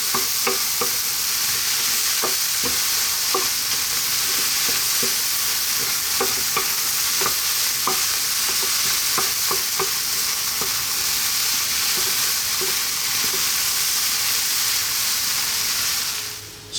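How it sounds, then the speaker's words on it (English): Spiced red bean and vegetable filling with fresh cilantro cooking in a pan, a loud, even sizzle and hiss running the whole way, dotted with soft stirring taps, then cutting off at the end. "Let's cook this out now."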